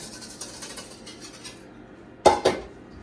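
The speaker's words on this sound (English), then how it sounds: "we're gonna gradually whisk this into our dry" Wet pancake batter whisked into the dry ingredients in a bowl gives quiet, soft scraping, then two sharp metallic clinks of the whisk against the bowl near the end.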